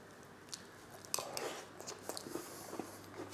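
Close, quiet chewing of homemade apple pie with pastry and juice, soft crunchy bites and wet mastication clicks in an uneven rhythm, with no talking.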